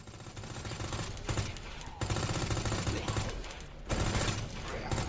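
Rapid, sustained machine-gun fire from the Resident Evil 3 Remake video game, with dense overlapping bursts that stay loud and continuous throughout, forming a steady barrage.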